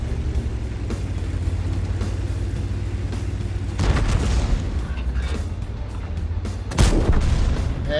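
In World of Tanks, a Tiger II tank's main gun fires in heavy booms, one around the middle and another near the end, over a steady engine rumble with little talk.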